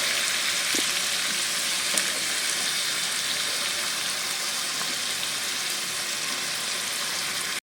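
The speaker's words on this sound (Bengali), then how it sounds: "পেস্টটা দিয়ে আবার নাড়াচাড়া করে দেব তো এটাকে ভালো করে এবার কষিয়ে দেব" Chicken coated in spice paste fries and is stirred in a pan for a taro (kochu) chicken curry, giving a dense, even sizzle that holds loud and close throughout with a faint knock early on.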